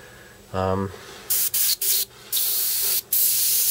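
Badger Sotar 20/20 airbrush: a short buzzing tone, then several close, loud bursts of airy spray hiss, each cut off by brief pauses, ending with a longer sustained spray.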